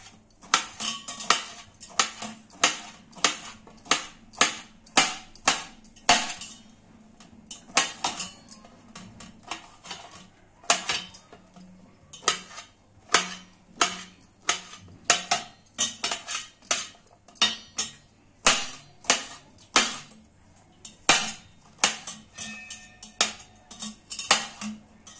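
A knife finely chops peeled dolkya (gourd) vegetable on a board, producing a long run of crisp, sharp taps in quick irregular bursts with brief pauses between them. The chopping is close and there is no talk.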